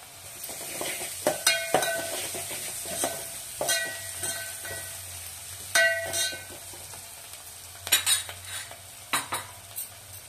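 Ginger garlic paste sizzles in a pan while a utensil stirs and scrapes it, a steady close hiss broken by repeated metallic clinks and taps.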